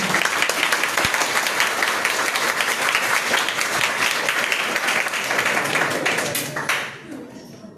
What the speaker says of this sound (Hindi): इनके लिए तालियों के साथ स्वागत किया जाए।